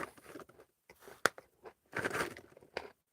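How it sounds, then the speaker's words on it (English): Close, crunchy chewing with irregular bites and crackling munches, some louder snaps among softer grinding, quiet and with no talking. "It's a lot of chewing."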